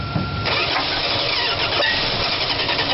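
A 1971 Dodge Coronet engine cranks and catches, sputtering into a rough, uneven start with a dense mechanical roar that stays loud and close throughout.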